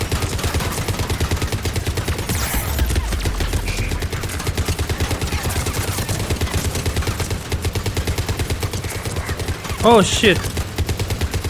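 Rapid gunfire in Mass Effect 3 rattles continuously in dense, fast bursts, loud and close throughout, while a voice exclaims briefly near the end.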